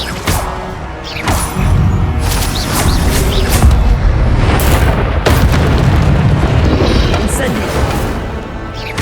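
Fiery spell blasts from the Incendio charm in the game Hogwarts Legacy, a dense run of loud booming bursts and crackling impacts packed together over chaotic combat noise, with a voice shouting through it.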